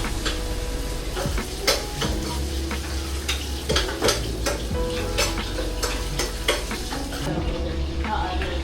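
Garlic sizzles steadily in a hot pan while a utensil stirs and scrapes against the metal in repeated close clatters, loud and continuous without talk.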